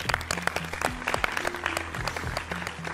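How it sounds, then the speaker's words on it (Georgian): A television studio audience breaks into applause, a dense run of sharp, close hand claps that holds steady for several seconds, with a few faint tonal sounds behind it. "აპლოდისმენტები"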